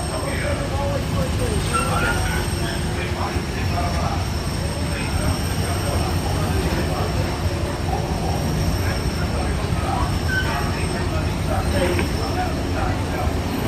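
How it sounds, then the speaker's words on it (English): A Disneyland monorail train rolls into a station, a continuous low rumble and whir with faint squeals, while people talk nearby in the crowd. "Alright everybody, here's your next monorail"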